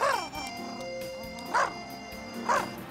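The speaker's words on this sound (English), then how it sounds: "But I don't know about that dog of hers." A dog in a classic Strawberry Shortcake cartoon gives three short, yappy barks spaced about a second apart, heard over a soft musical background.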